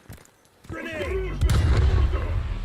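A grenade goes off in Black Ops Cold War as a deep, heavy boom that rolls into a long low rumble, preceded by sharp shots and heard with a voice shouting nearby.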